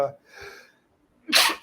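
A single sharp sneeze bursts out close by after a brief stretch of speech and quiet, loud and sudden against a calm indoor background.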